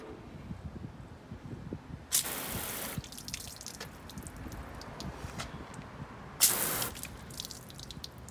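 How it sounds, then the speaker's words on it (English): A garden hose on its shower setting sprays water across a car's front doors in two short, hissing bursts separated by quieter dripping, fairly close and with no talking. "I'm going to give a spray to the front doors so you can see if there's any difference"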